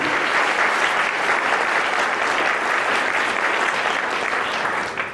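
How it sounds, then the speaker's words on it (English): A room of guests at a newspaper's 25th anniversary event gives steady, full applause, a thick continuous clatter of clapping that stays strong for about five seconds before easing slightly at the end. "please give them a round of applause"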